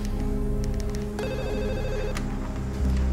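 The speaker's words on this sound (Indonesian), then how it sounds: "Lebih baik sekarang aku telepon dokter Darren buat nanyain obat buat Kak Reno" On an outgoing phone call to a hospital, a telephone ringing tone sounds once as a clear electronic ring over a constant background hum.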